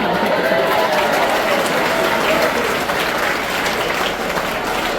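Loud applause from a school audience at a senior secondary academy program, a thick wash of many hands clapping continuously and close, with faint voices mixed underneath.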